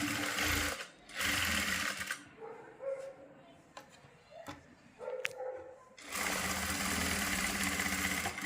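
A sewing machine stitches the side pocket of a pair of pants in loud rapid bursts, starting and stopping with quieter gaps between runs, close to the listener.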